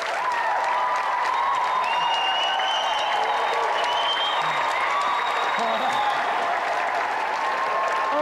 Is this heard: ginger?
no